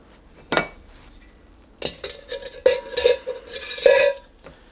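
Small zebra billy can pot being fitted into a Kelly Kettle hobo stove, with a few sharp metallic clanks and rattles, close up and separated by quiet pauses, then a cluster of clinks toward the end.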